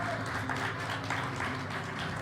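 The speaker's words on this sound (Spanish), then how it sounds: "un fuerte aplauso para Natalia" Applause for Natalia after a lecture at a Bolivian museum event, a steady wash of clapping from the audience that runs evenly through the whole moment at moderate loudness.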